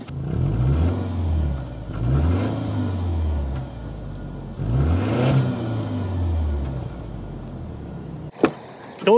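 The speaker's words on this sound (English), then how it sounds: "start up so you can hear that exhaust now." A 2023 Subaru Ascent idles with its exhaust rumbling, a low engine note swelling in three or four slow revs, and a sharp clunk near the end.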